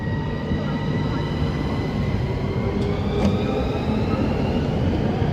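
A Southeastern Class 395 high-speed train, unit 395023, pulls away from Sittingbourne station with a loud, steady rumble and a rising electric whine of several tones, unbroken throughout.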